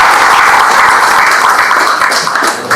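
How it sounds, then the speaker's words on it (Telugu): An audience breaks into applause, a dense, steady wash of many hands clapping, loud and sustained throughout, with no talking over it. "మరి వారి గట్టిగా చప్పట్లతో అభినందనలు తెలియజేయాలి."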